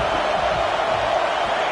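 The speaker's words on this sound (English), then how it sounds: "The noise. This crowd is trying to inspire this defense to make a big red zone stop." Football stadium crowd roaring steadily during a red zone defensive stand in a college game, a dense, continuous wash of distant voices and cheering with no individual words standing out.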